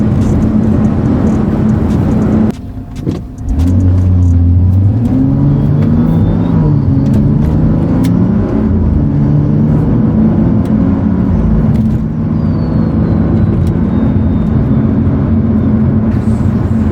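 A BMW F30 335i being driven on the road after a front control arm tension strut replacement, its steady engine hum and tyre rumble rising and falling with gear changes and acceleration, close and continuous throughout with no talking.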